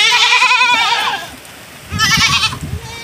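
Goats bleat loudly at a village homestead in Africa, with several wavering calls early on and another burst of bleating near the end, close to the listener.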